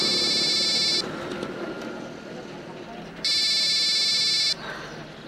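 A phone rings in two bursts of electronic trilling, each about a second long with a pause between, heard over quiet room tone in a household scene from a Bengali TV serial.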